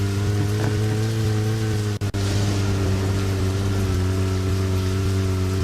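Rain pours steadily in the video game Deadly Premonition while a car drives at about 30 miles per hour, a constant wash of rainfall layered over a low droning engine hum, with one brief dropout midway.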